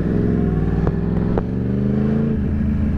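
A motorcycle engine rumbles loud and close, holding a steady throaty idle with a slight shift in pitch near the end.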